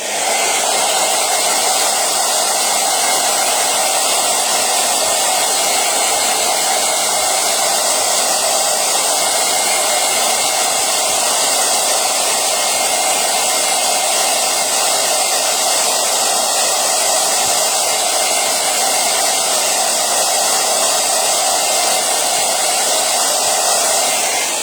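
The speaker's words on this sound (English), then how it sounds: "I'm going to go ahead and do the hairdryer one more time" Hair dryer blowing continuously at close range to dry paint on a dot-art Santa and reindeer ornament, a loud, steady whooshing whine with no pauses.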